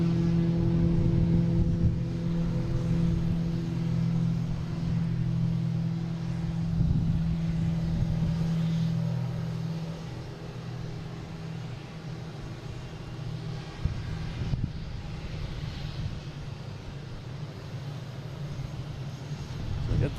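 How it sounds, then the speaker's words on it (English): United Airlines airliner taking off at Boston Logan airport, a loud sustained jet engine roar with steady droning tones that gradually fades, under light background noise. "But first we have United Airlines taking off to LAX."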